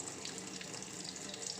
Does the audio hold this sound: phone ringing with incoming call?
no